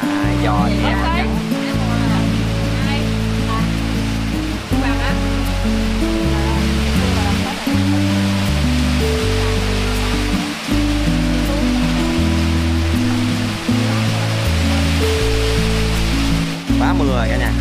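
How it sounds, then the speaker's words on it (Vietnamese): Heavy rain pours outside a Mekong Delta kitchen in a dense, constant hiss, heard under loud, steady background music throughout. "ngoài trời đang mưa lớn rồi"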